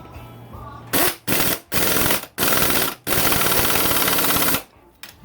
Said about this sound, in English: I'm using setting number 2 here on this impact